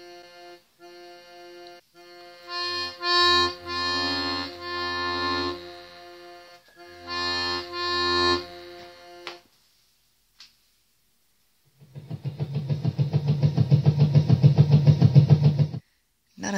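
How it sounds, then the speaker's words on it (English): A software accordion voice is triggered from a single homemade MIDI accordion key, producing reedy, harmonically rich held tones in several short bursts. After a pause comes a louder, buzzier sustained note. "And now I've got the accordion instrument set up on the computer."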